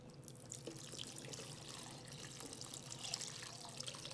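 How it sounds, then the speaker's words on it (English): Plain water poured from a tap over canned white beans in a cooking pot for a Greek fasolada soup, a steady continuous splashing and trickling stream held at even level throughout, close and alone. "And I like to add plain water."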